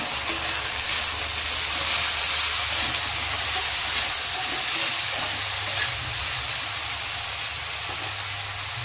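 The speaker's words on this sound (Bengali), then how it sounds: "এবার আমি এতে কেটে রাখা ডুমো ডুমো করে ছোট ছোট একদম আলুটা দিয়ে দেব" Finely diced potatoes going into a pan of frying onions for a Bengali greens fry: a dense, steady hiss of oil sizzling close by, continuous throughout with no voices.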